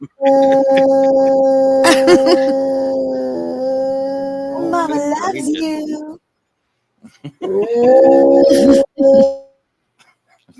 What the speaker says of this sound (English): He's howling in his sleep.